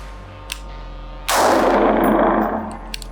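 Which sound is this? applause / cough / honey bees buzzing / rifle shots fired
rifle shots fired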